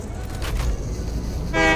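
Modded train horn in the game Satisfactory, a loud, brief blast near the end over a low rumble of the train and background game noise.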